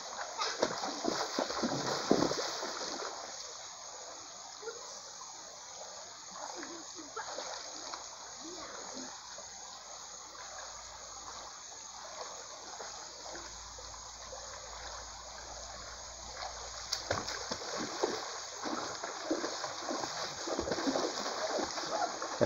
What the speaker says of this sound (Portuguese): Ela tá brincando, banhando um pouquinho, né?